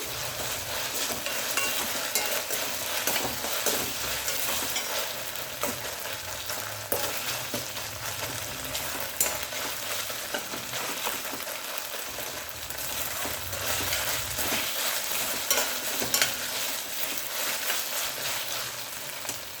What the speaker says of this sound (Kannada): 1 table spoon ginger garlic paste. ಚೆನ್ನಾಗಿ ಫ್ರೈ ಆಗಬೇಕು.